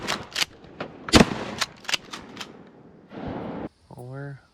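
Shotgun fire during a youth duck hunt in Wisconsin: several sharp, loud blasts in fairly quick succession, one especially strong, with voices urging a shot around them and a duck call sounding near the end.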